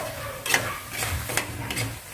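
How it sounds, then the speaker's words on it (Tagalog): Squid balls pre-frying in a pan for pancit bihon: a soft, steady sizzle with a few light scraping stirs over it, close and quiet. "Pre-fry muna daw yung ating squid balls."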